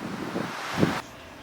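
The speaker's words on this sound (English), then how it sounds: "It is nasty out here. Winds gusting over 40 miles an hour." A short burst of rushing wind from a Minnesota winter storm, gusting over 40 miles an hour, buffeting the microphone, loud and gusty, then dropping off abruptly.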